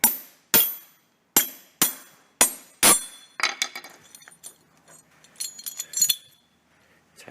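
Old nuts being hammered out of a Lamborghini replica part, six sharp metallic whacks at a steady pace, followed by lighter clinks and rattles of metal pieces.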